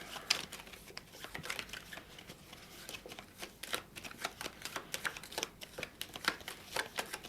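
A deck of game cards is riffled and shuffled on a table during a card game, giving repeated crisp flutters and snaps at close range with no talking.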